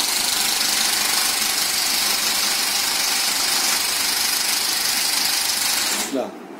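A Moviola film editing machine runs with a steady, loud mechanical whir and rattle that holds unbroken for about six seconds, then cuts off abruptly near the end.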